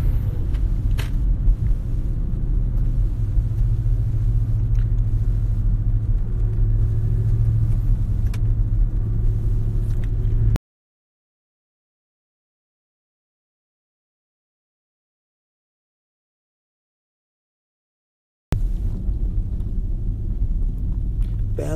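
A truck driving along a road on a rainy day makes a steady, close, low rumble for about ten seconds, then the sound cuts to silence for several seconds before the rumble returns.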